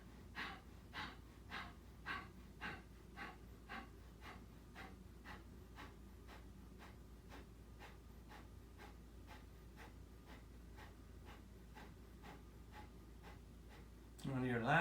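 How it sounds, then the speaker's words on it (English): Rapid, forceful exhales in a yoga breathing exercise sound close and rhythmic, at roughly two per second, with a steady pace, and a louder rustle comes at the very end. "I'm going to do 30 more exhales."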